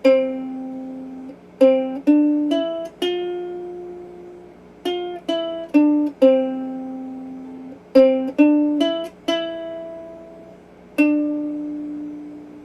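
Bright plucked ukulele notes pick out a simple melody in small clusters with pauses between, each note decaying quickly; close and alone.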